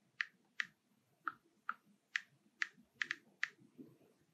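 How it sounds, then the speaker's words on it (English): Eight crisp keystrokes on a computer keyboard as a password is entered, evenly spaced clicks close and clear over a quiet room. "Now I have to type it again to make sure that it matches."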